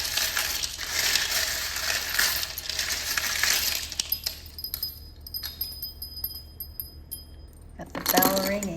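Small metal charms clink and jangle with a bright, shimmering rattle, then a prayer bell rings with clear, sustained tones that fade and return in a short burst at the end.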